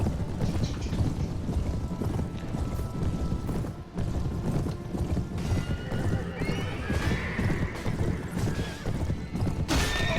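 In a Mount & Blade Warband cavalry charge, horses neigh and hooves clatter amid battle noise and wind, with a loud whinny rising near the end.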